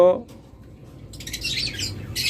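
Caged pet birds in a shop chirp in short bursts. A pair of budgerigar or cockatiel types give bright, close tweets over faint room noise.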